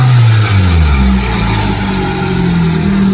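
A Nissan Pulsar engine fitted with a budget cold air intake revs loudly up close, its pitch rising and then settling into a strong, throaty drone with an intake growl.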